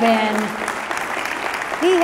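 Crowd applause for Mike at a Denver Press Club Hall of Fame induction, a moderate continuous patter of clapping, with a voice speaking briefly over it at the start and again at the end.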